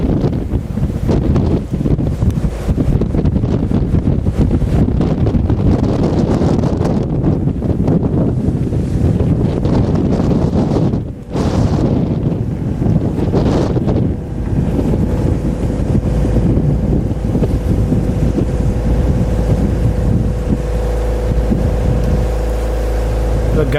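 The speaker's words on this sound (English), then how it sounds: "especially the noise of the wind howling in the rigging" A storm at anchor off Hawaii sends strong, continuous wind roaring and howling through a sailboat's rigging, loud and unbroken for the whole stretch, with a brief dip partway before the gusts build again.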